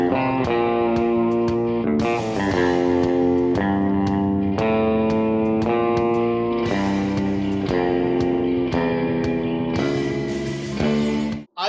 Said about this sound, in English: turn the delay and reverb back on.